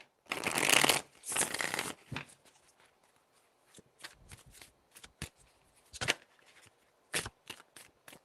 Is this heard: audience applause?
no